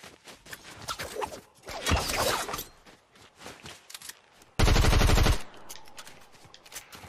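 Automatic weapon fire in Fortnite: a sustained, loud burst of rapid shots lasting under a second, set among scattered lighter game sounds and a few faint footstep-like taps.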